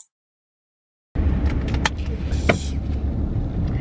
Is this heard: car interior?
yes